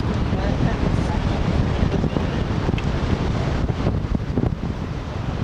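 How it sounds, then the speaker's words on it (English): Steady, heavy wind buffeting the microphone with dense low rumble throughout, constant and loud with no pauses. "Windy down here"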